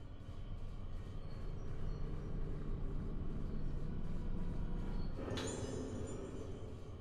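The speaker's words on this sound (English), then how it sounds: "Sounds like a train." A train in the horror game Fatal Frame: Mask of the Lunar Eclipse gives a continuous deep rumble, with a sharper metallic rattle rising near the end, steady and moderately loud throughout.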